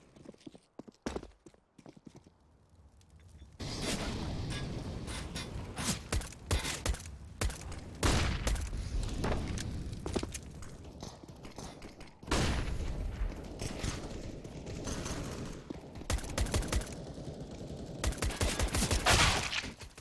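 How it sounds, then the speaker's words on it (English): USP pistol fire in the game CS:GO comes as rapid, sharp, clicky shots in dense clusters, fairly close and steady over about twenty seconds, with a quieter scattering of shots at the start. "he's just full-on spamming that USP with no real control"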